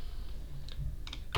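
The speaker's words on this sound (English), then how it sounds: "So we're gonna type" Keys clack on a computer keyboard while a command is entered on Windows Server, a few quick, soft, close taps scattered over a faint hum.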